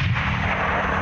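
Frontline artillery and tank fire, a heavy continuous low rumble of distant booms, fairly loud and sustained for about a second, with no speech.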